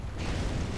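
Spider mines blow up in the video game Torchlight 2: one short, muffled burst of a blast with a low rumble, lasting under a second.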